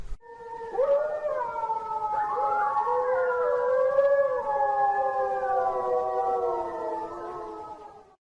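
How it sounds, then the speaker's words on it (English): Coyotes howl together in a sustained, layered chorus, with a wavering ooh-ah call woven among higher-pitched yips and wails, loud and continuous for several seconds before trailing off. "bringing the coyotes back into the picture, we can hear the ooh-ah call mixed in with the higher-pitched chorus"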